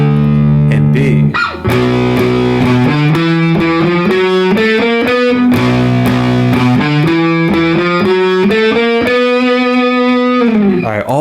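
An electric guitar with heavy distortion plays riffs, chugging and sliding through loud sustained power-chord phrases with a brief gap near the start, close and alone without talk.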